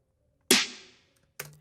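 Snare drum sample with parallel compression and a reverb plugin set to a snare room at 20% mix: a loud crack with a long, fading reverb tail, then a softer second hit, close and alone.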